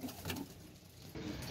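Sialkoti pigeons coo in soft, low, repeated calls over a faint, steady background, close by with no talking.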